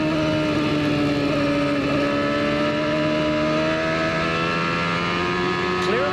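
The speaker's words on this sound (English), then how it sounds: "Clearly you hear Gordon play with the throttle. He's on, off, on, off." A CART Indy car engine at the 1995 New Hampshire race, its harmonic whine rising and dipping as the driver feathers the throttle on and off, loud and steady throughout with other engine tones layered behind.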